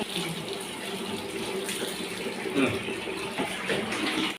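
Running tap water fills a bath for a small child, a steady close gush and splash that swells slightly near the middle before cutting off abruptly.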